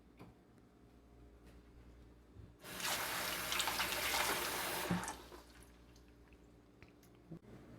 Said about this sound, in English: then I'm going to rinse the potato off